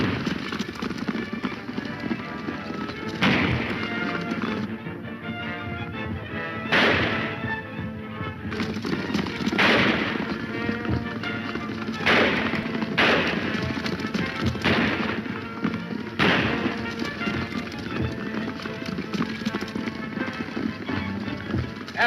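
Gunfire in an old-time Western radio-style serial, several sharp cracks spaced through the action, mixed with galloping hoofbeats, horse noises and busy background sound.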